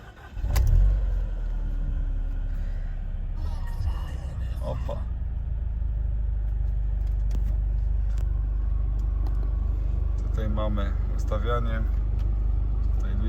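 A 2008 Mercedes-Benz CLC 200 with a 1.8-litre 184 hp engine and 215,000 km cranks and fires up, surging briefly before settling into a steady idle rumble as someone talks over it.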